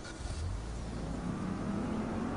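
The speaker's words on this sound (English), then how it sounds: "I drove away and the vehicle still hadn't started up yet" Car engine in Saints Row The Third, a steady mid-pitched engine drone and rising rev as the vehicle drives off, loud and continuous with no talk.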